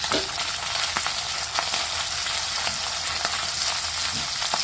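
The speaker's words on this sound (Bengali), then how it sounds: "এখন আমি ফ্রাই প্যান থেকে উঠিয়ে নিচ্ছি" Pabda fish frying in mustard oil in a pan, giving a steady, close, dense sizzle with occasional sharp crackles and pops, no voices.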